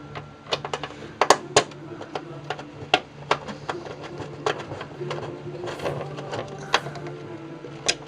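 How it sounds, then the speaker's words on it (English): An ASUS P6T Deluxe V2 motherboard is screwed into a PC case, giving irregular sharp clicks and taps of metal screws and a screwdriver, close and distinct over a steady low hum. "I'm going to screw the motherboard."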